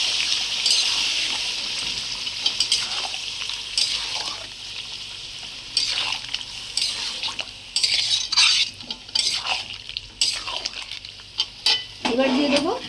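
Chicken being stir-fried with spices in a pan: a steady close sizzle with scraping and stirring of a utensil against the pan, occasional clinks, continuing throughout without talk.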